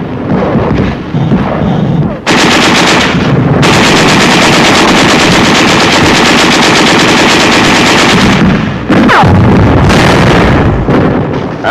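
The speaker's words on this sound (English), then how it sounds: "There is some machine gun fire and occasional shells" Loud, continuous machine gun fire rattles through World War II battle footage of an attack on the Rhine in 1945, with heavy thuds of artillery shells and brief pauses between bursts.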